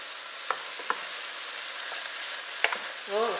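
Egg roll in a bowl mixture sizzles softly in a pan, a low continuous crackle broken by a few sharp stirring clicks and a short scrape near the end, with no talking.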